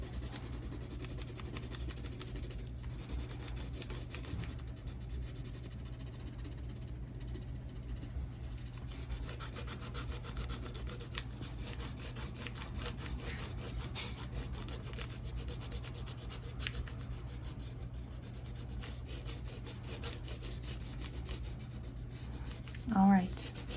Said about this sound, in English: you're going to put your pencil on its side, okay? And you're gonna press really hard and color